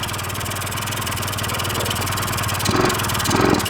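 A Honda Elite scooter with a clogged carburetor runs just after its first startup, a steady close putter that rises in two brief revving surges near the end.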